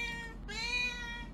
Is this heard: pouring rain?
no